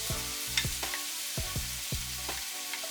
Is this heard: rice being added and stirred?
yes